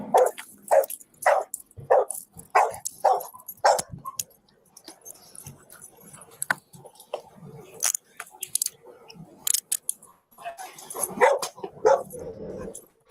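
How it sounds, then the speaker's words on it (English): A dog barks in a fast run of sharp, close barks, then keeps yapping intermittently while people talk in the background. "Now the dog's upset."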